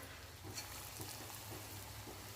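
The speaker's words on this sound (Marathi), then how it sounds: "आता या डाळीचे छोटे छोटे गोळे करून आपल्याला तेलात सोडायचे" Small moong dal dumplings fry in hot oil with a steady, close sizzle and faint soft pops throughout.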